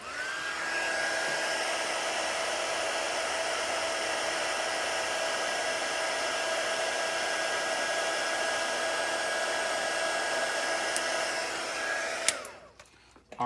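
A heat gun warms the adhesive on a cracked iPhone 7 screen during repair, blowing with a loud, constant roar and a steady whine for about twelve seconds before it cuts off abruptly. No one speaks.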